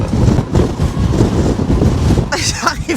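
Strong Patagonian wind near Puerto Natales, Chile, buffets a handheld microphone in loud, rumbling low gusts that pulse unevenly throughout, with a brief brighter burst near the end.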